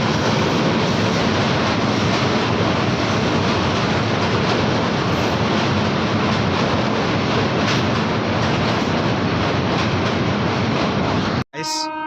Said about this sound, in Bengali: অবশেষে একটা ট্রেন আসছে